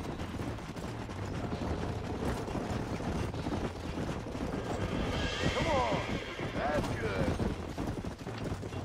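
A horse whinnies and its hooves clip-clop during a horse-catching struggle in Red Dead Redemption on Xbox 360, with mechanical clicking, constant game noise and a voice talking throughout; the neigh rises clearly near the middle.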